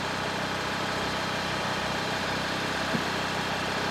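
A new tractor engine runs at a steady idle nearby, a continuous low throbbing drone with no changes in speed.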